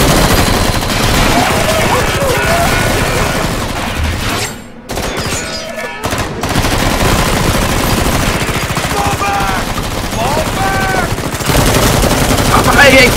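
Sustained automatic gunfire and bursts of shots from Metal Gear Solid 5: The Phantom Pain, loud and continuous with brief lulls, shouting voices mixed in.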